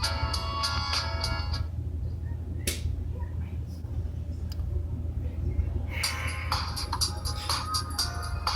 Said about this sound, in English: Received a text message.